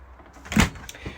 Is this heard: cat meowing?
no